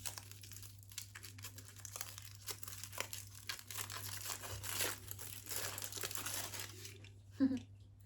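Plastic wrapper of a Greek Christmas snack being opened, a continuous close crinkling and rustling over a low steady hum, ending in a brief louder crackle.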